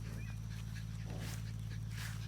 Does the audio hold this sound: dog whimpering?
yes